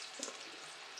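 Onion and golden garlic frying in a pan for vegan minestrone soup, a faint, steady close sizzle with a soft clatter near the start.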